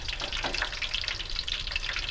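Fries cooking in hot oil for buffalo wings: a dense, bright, continuous sizzle with crackling pops, close and steady throughout, with no voices.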